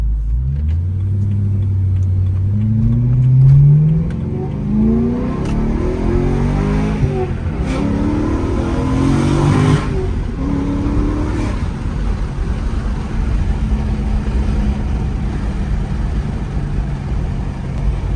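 BMW E92 M3 accelerating through hard pulls, first with exhaust valves closed and then open, a loud rising engine roar that climbs, drops at shifts and climbs again, close and steady for the whole stretch, no voices.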